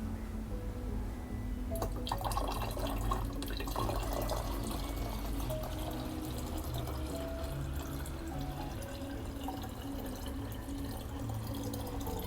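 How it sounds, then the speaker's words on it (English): Water is poured into a 1-liter milk bottle, giving a steady, faint trickle and splash that runs continuously at an even level for over ten seconds, with no talking. "So to that we will add water."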